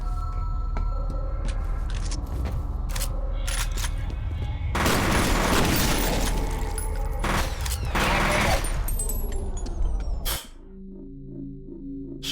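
Dense gunfire from a new rifle in the shooter game F.E.A.R., rapid shots and booming bursts filling most of the stretch before cutting off abruptly into quieter game ambience near the end.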